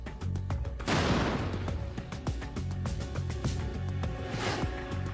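A powerful shaped-charge explosion fired at tank armour bursts out after a brief moment, then a drawn-out crackle of popping and rattling fragments, with a second heavy thump near the end.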